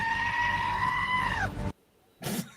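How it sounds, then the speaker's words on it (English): A screaming goat gives a loud, close, strained bleating yell that holds for about a second and a half, breaks off into silence, then returns as a short final burst. "Screaming goat."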